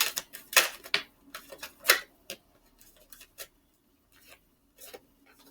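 A deck of tarot cards is shuffled by hand in a quiet room, producing a string of quick, crisp riffling and flicking bursts. The bursts arrive in irregular clusters and are heard alone.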